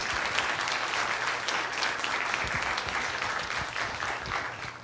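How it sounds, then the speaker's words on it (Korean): An audience at a university lecture claps warmly to welcome a guest professor, a sustained, fairly even round of applause heard from within the hall, with no talk over it. "힘찬 박수로 맞아주시기 바랍니다"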